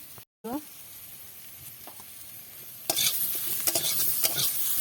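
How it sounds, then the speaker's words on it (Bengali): Chilli, ginger and cumin powder fry together in a pan, starting with a soft, low sizzle before a utensil begins stirring and scraping, bringing louder crackling bursts close by. "দিয়ে এবার ভাজা ভাজা করে নেব"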